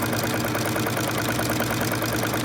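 A sewing machine stitches steadily along a zipper edge on a pillow cover, a fast, even mechanical whirr running continuously at close range with no talking.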